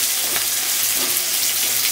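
Onions frying in hot oil for a masala egg curry, a dense steady hissing sizzle heard close and loud, with faint stirring, no voices.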